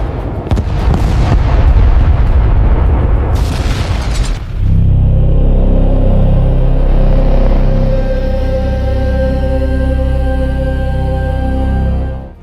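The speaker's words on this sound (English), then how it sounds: "The first wave released high explosive bombs." High explosive bombs bursting during an air raid on Dresden in 1945: heavy booming blasts and rumble for several seconds, then a sudden cut to a sustained low droning roar that carries on to the end.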